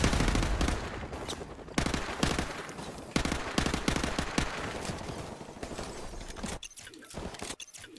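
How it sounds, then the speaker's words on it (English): Sustained automatic gunfire rattles in Modern Warfare Remastered as shots are fired out a window, loud rapid bursts repeating for several seconds before ending in a few scattered single shots. "Shoot out the window here."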